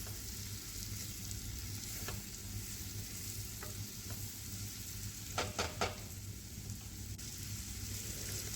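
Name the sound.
mushrooms frying and being stirred in butter with garlic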